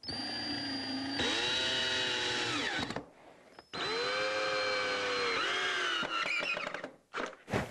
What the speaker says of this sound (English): So now you'll need to come in from the top side and try and get a screw down in there the best you can.